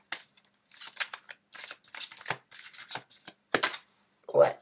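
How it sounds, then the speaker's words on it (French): Tarot cards shuffled and drawn, giving a series of short papery riffles and flicks in uneven bursts with small gaps, close up, ending in a brief soft thump. "Alors, je vais sortir une autre carte."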